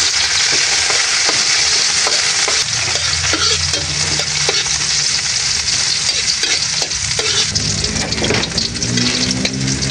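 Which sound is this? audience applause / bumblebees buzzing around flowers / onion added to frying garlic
onion added to frying garlic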